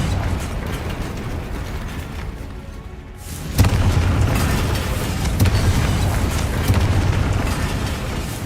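A Confringo blasting spell goes off in Hogwarts Legacy, a loud booming burst that hits abruptly midway and leaves a dense rumbling roar with further thuds over steady game noise.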